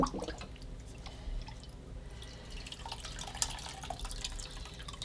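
Hot chicken bone broth strains through a kitchen towel, giving a faint, steady trickle and soft drips close by, with no talking.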